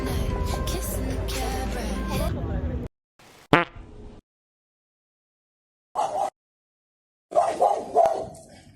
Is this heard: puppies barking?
yes